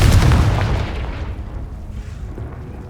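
A Confringo fire spell explodes in the video game Hogwarts Legacy, a loud deep boom at the start that fades into a rumbling tail.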